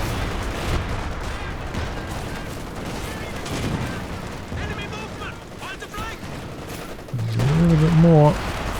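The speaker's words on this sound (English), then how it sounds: "Looks like might be able to take it down with small arms and more infantry support gun fire though." Small arms and infantry support gun fire crackle through a Company of Heroes 2 battle, dense continuous gunfire and rumbling explosions with a loud swell near the end, mixed with game sound effects.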